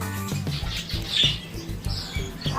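Budgies squawking and chirping in an aviary at a bird shop, a busy overlapping chorus of short calls with low rumbling and indistinct voices underneath.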